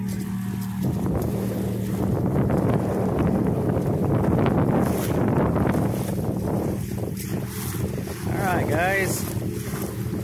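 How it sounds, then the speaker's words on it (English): Wind roars steadily over a Compac Legacy sailboat under way, a broad continuous rush of air and water noise filling the whole stretch, with people talking briefly over it. "we got some wind going on here."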